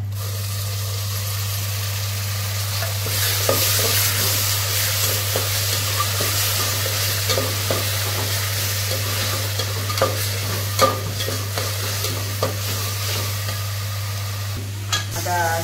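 Ginger, garlic and tomato paste frying in oil with browned onions, a steady loud sizzle with scraping stirring strokes throughout, no talking.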